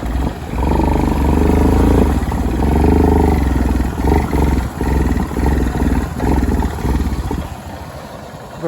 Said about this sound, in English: this four-wheeler sucks!